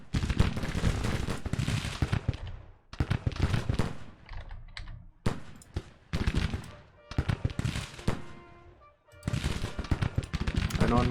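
Bursts of massed musket volleys in the Civil War strategy game Grand Tactician, crackling rapid-fire clusters separated by brief pauses, loud and close throughout.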